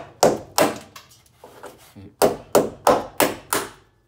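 Sharp hammer blows knock a hole out of a bracket on an NA Mazda Miata rear finish panel, with a quick series of close, loud strikes, a brief pause with softer taps, then five more rhythmic hits.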